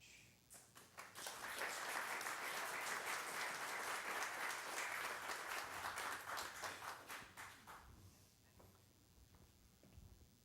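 A church congregation applauds to welcome a speaker: steady, dense clapping that swells quickly, holds for several seconds, then thins into scattered claps and fades.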